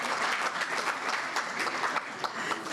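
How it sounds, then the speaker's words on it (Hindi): An audience at a Hindi poetry event applauds, a dense burst of clapping that carries on steadily, moderately loud, with faint crowd murmur underneath. "जोरदार तालियां"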